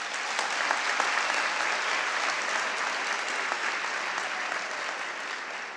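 Sustained applause from a graduation ceremony audience, a dense, even wash of clapping that holds steady throughout and fades slightly at the end.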